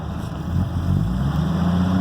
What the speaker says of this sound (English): I rev it back up.